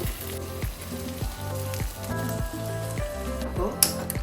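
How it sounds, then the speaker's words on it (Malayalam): Fish frying in oil in a pan sizzles steadily and close, with a repeating rhythmic clatter or stirring underneath and a brief sharper knock near the end. "ഇപ്പം നമ്മൾ ഫിഷ് അത്യാവശ്യം ഫ്രൈ ആയി വന്നിട്ടുണ്ട്"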